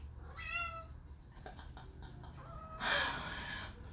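A pet cat gives a couple of short meows at home, rising and falling, close and moderately quiet, followed by a brief louder rustle near the end.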